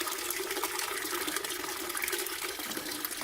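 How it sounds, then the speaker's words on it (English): Water gushes steadily from a tap into a bucket, a continuous hissing, splashing pour heard close up and alone throughout, drained from the pipes of a long building during a shutdown. "I fill up a bucket."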